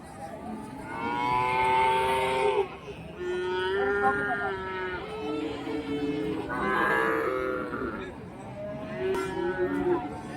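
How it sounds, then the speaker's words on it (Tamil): Jersey heifer calves at a busy cattle market in Karimangalam, Dharmapuri, let out repeated loud, drawn-out moos, several overlapping calls close by one after another. "நான் ஜெர்சி கிடாரிக்கு வந்து நிறைய வச்சுருக்கேங்க இந்த சைடு பாருங்கள்"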